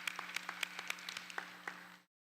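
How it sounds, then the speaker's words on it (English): Sparse audience applause at a nursing college commencement, a handful of distinct nearby claps over a steady low hum, stopping abruptly after two seconds. "Big round of applause for Barbara."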